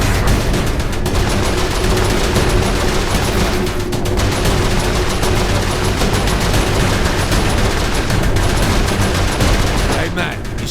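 Continuous loud turret gunfire aimed at ships in Saints Row IV, a dense unbroken machine-gun roar lasting throughout with heavy battle noise and no pauses.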